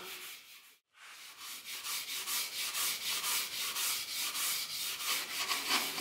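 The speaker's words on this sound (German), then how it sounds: "Und dann nehme ich ein graues Schleifvlies, die Schleifpads mit 1500er Körnung. Mit dem gehe ich dann ganz leicht drüber." Grey 1500-grit sanding fleece rubs lightly with little pressure over old car paint and its rust spots, a close, steady rhythmic scratching swish in repeated strokes after a brief pause near the start.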